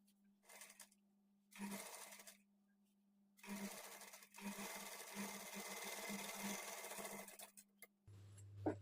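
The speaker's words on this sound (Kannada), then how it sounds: "ಇದ್ರ ಮೇಲೆ ಇನ್ನೊಂದು ಡಬಲ್ ಸ್ಟಿಚ್ ಹಾಕ್ಕೊಳ್ಳಿ" A sewing machine stitching pleated sleeves onto a garment, running in short bursts and then a longer steady stretch, with its motor hum and rapid needle chatter close by and no talking.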